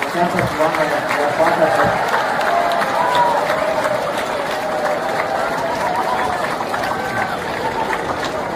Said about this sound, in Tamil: 2ஆம் ஆண்டு 3ஆம் ஆண்டு மற்ற மாணவ செல்வங்கள் இவங்களுக்கு ஒரு பெரிய கைத்தட்டல் கொடுத்து வரவேற்க பார்க்கலாம்